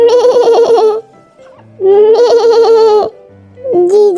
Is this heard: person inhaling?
no